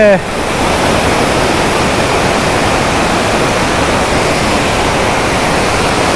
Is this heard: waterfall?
yes